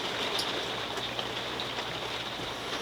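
Steady rain drums on a caravan roof on the Coromandel coast, a dense, even patter with occasional louder drops, close and continuous, with no voices.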